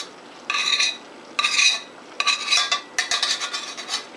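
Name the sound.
mixing rice into pepper stuffing in a bowl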